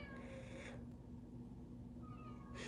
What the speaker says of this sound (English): There are two cats outside my window right now.